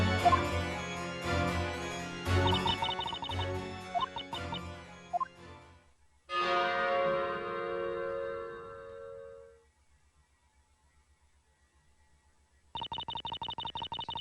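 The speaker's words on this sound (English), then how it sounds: "I just really want to ring that bell." Church bell rung in the video game Professor Layton vs Phoenix Wright: a loud struck tone with a long ringing decay, preceded by busy game music and followed by a steady electronic tone.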